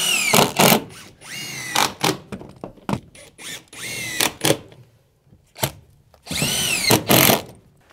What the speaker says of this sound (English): now we're gonna go back through and make sure that these deck boards are all screwed down properly